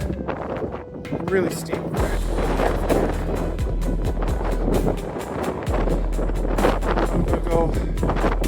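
Strong wind buffeting the microphone on a steep hilltop beside a steep drop, at ancient watchtower ruins, a constant loud rumbling roar under a person's voice.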